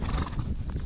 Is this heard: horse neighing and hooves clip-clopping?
yes